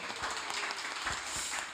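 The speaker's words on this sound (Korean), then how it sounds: "예, 박수." Applause from an audience at a stewardship seminar, a steady wash of many hands clapping that fills the short moment at moderate loudness.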